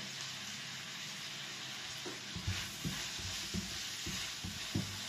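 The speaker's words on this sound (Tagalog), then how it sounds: "Haluin po natin na maigi." Onion and garlic sauté in a pan under a constant quiet sizzle, while a spoon stirs with a series of soft rhythmic scrapes in the second half; no talking.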